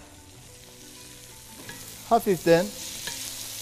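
Arugula, mint and onion greens being stirred in a pot over a soft sizzle, with a brief spoken word and a few louder scraping sounds near the end.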